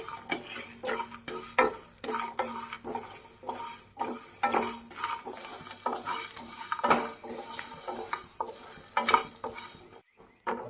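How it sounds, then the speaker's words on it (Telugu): Whole spices, coconut, cinnamon, cloves and cardamom, stirred and frying in a pan for a chicken fry masala, with steady sizzling and repeated clinks of a spoon scraping the metal, close and busy throughout before a brief quiet end. "ఇవి మొత్తం ఫ్రై చేసుకుందాం."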